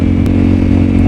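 A 250cc motorcycle on an evening ride sounds a loud, steady engine drone with brief exhaust pops crackling over it, heard close up without talk.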